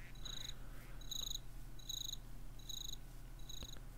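Minecraft crickets chirping in a forest biome, five evenly spaced high trilling bursts repeating in a steady rhythm, quiet against a constant low background hum, no voices.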